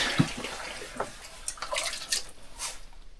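An ostrich hide being tanned drops into a water bath, giving a few quiet, scattered splashes and drips at close range with soft sloshing in between.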